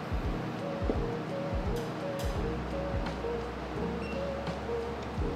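Steady rushing wash of water poured over a coffee bed in a V60 dripper for a reverse-style brew, a continuous close pour with faint tonal hum underneath and no talking.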